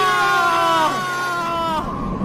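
A man screams in agony after drinking poisoned sherbet, his long wavering cries rising and falling over about two seconds, loud and close, with a strained sobbing quality that drops off near the end.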